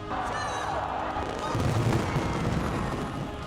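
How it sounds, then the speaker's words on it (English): New Year 2020 fireworks display over the Chao Phraya River in Bangkok, a dense continuous rumble of booms and crackles with an underlying broadcast roar, steady and loud throughout. "the public welcomed 2020 with a spectacular fireworks display over the Chao Phraya River"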